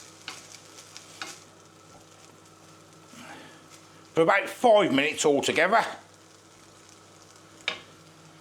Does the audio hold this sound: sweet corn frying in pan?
yes